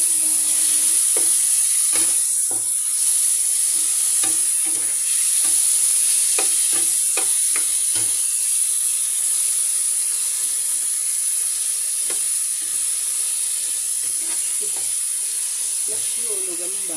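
Continuous bright sizzle of garlic frying in a pan, burning, with occasional stirring scrapes and clinks, and a voice speaking briefly near the end.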